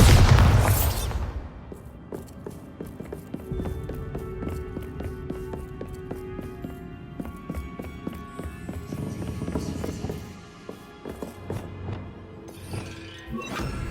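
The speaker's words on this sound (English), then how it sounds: "Bombarda!" A Bombarda spell explosion in the Hogwarts Legacy video game hits with a loud burst at the very start, then gives way to scattered debris clatter and thuds that fade over the following seconds.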